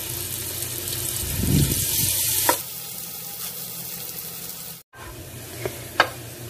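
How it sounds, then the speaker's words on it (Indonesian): Onions sautéing in ghee in a pot for chicken biryani hiss with a close, steady sizzle, broken by a stirring scrape, a brief dropout and a few sharp utensil clinks, with no talk. "Lalu tumis bawang bombaynya. Ini ditumis ya sampai warnanya coklat."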